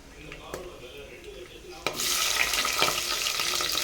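Sliced onions and green chillies sautéing in hot oil for mushroom biryani, quiet at first with a few light clinks, then a sudden loud burst of hissing sizzle that continues steadily and close.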